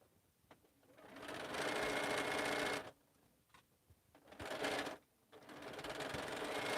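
A sewing machine stitches quilt pieces in bursts of steady whirring, pausing briefly between runs, fairly close and alone without talk.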